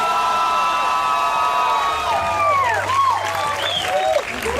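Audience at a live comedy show breaking into loud sustained applause and cheering, a dense wash of clapping with whoops rising through it.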